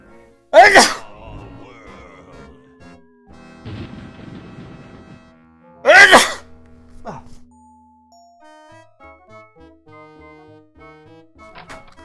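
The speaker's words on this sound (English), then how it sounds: "Sneeze." Two loud, sharp sneezes a few seconds apart in a LucasArts adventure video game, with game-like chimes and clunky sound effects between and after them.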